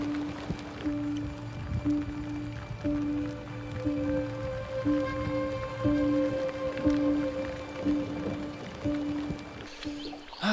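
Steady rain patters on surfaces at a lakeside camp in Sweden, a continuous soft spatter under a low hum with faint tonal lines, holding at an even moderate level throughout.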